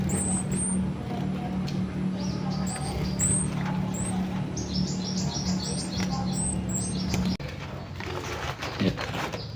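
Small caged songbirds, toli-toli, cijantung and wiceh, chirp in short, high, repeated calls throughout a mini aviary, with a steady low hum and background noise beneath.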